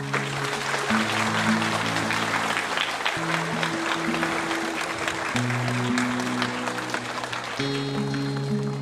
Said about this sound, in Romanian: Am să vă rog să vă aplaudați unii pe alții.